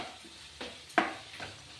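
Grated raw mango stirred into frying rice seasoning in a pan, three short scraping strokes with a soft sizzle underneath, close and quiet, with one sharper clink of the spoon against the pan.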